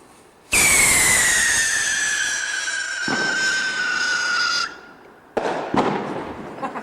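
Fireworks whistle loudly from ½ s to about 4½ s in one long, falling, high-pitched shriek rich in overtones. It breaks off and a few sharp crackling bursts follow, with a voice briefly nearby.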